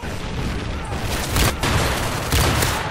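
Explosions and gunfire from the Modern Warfare 3 co-op Survival mode on the Underground map, with dense booming blasts and rapid shots that stack into loud repeated bursts.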